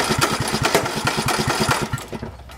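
A lawn mower engine chugs with rapid, regular firing pulses, running steadily close by before cutting out near the end.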